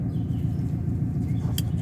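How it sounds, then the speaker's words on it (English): A loud big truck rumbles steadily nearby with heavy low engine drone throughout and a brief higher burst near the end, voices faintly present underneath. "Guys probably won't hear me when he goes by because he's a loud one. He's got a big old truck."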